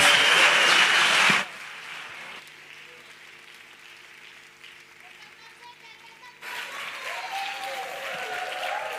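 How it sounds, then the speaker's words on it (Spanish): A loud burst of applause from an awards ceremony audience fills the first second and a half, then cuts off abruptly into quiet tones and softer background sounds. "Un aplauso, hombre."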